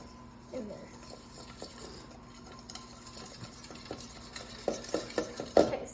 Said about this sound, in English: I'm just gonna whisk that together until it's all combined and there's no like clumps